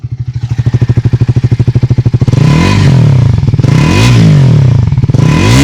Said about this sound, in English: Let's take a look at what the engine sounds like.